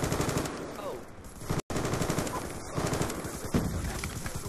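Automated sentry gun firing in a team deathmatch shooter game, a dense rapid stream of gunfire running almost continuously with a brief gap, loud and close, mixed with other in-game weapon sounds.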